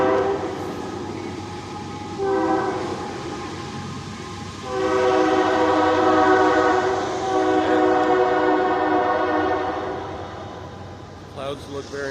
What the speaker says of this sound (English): We got a train in the back over there.